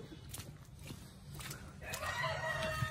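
Rain-soaked hens on a small farm cluck faintly in the cold rain, a few soft calls over a quiet steady patter, with no one speaking.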